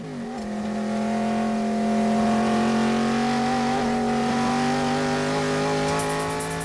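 A Ford Mustang GT350 accelerates smoothly, its engine tone climbing steadily and strongly, loud and close, with the rising harmonic drone continuing alone throughout.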